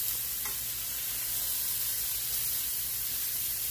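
Food frying in a skillet of oil kept as hot as possible while cooking jerk chicken, a steady, close, even sizzle with occasional stirring and no talking.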